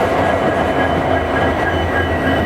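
A Howrah-Jodhpur passenger train rolls past on the Delhi to Jodhpur line, a steady, loud, close rumble of wheels and carriages that never lets up, with no voices.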